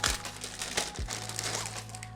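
Plastic packaging bag from a small online-ordered parcel crinkles and rustles as it is handled and opened, soft close crackling bursts over a low steady background hum.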